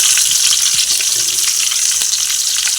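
Onions sizzle in hot oil with bay leaf and spices for brinji rice, a close, bright, continuous frying hiss with small crackles and a few soft stirring sounds.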